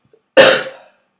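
A single short, sharp cough, close and loud, alone in an otherwise silent moment.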